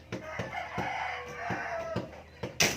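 Chickens clucking and calling close by in a yard, a steady run of short cackles and squawks with a louder burst at the end, no one speaking over them.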